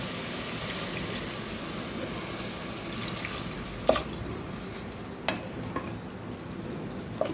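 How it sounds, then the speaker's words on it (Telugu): Water poured into moong dal inside a pressure cooker gives a steady, close rushing splash with a few brief clinks and drips along the way. "ఇప్పుడు వాటర్ వేసుకున్నాము"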